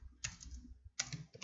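A few close, crisp keystrokes on a computer keyboard, in two short bursts separated by a brief pause, with no voices.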